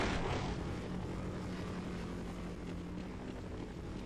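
Helicopter in the Half-Life game, a steady loud rotor-and-engine drone with a low buzzing hum that holds constant and close throughout, dense broadband rumble without pauses.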